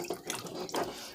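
Water pours and splashes steadily into a soup pot nearby, a short gurgling stream with no talking.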